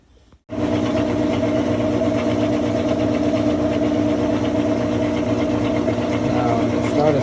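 Washing machine tub spinning fast with an off-center wobble, a suspected bent shaft from the gear case and worn suspension rods; a loud steady motor hum and rumble starts abruptly and runs continuously.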